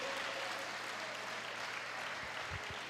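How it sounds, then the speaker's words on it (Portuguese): A church congregation at a conference worship session applauds, a steady wash of clapping that stays even and moderately distant throughout, with a few low thumps near the end. "Aplauda mesmo ao Senhor, Ele é digno."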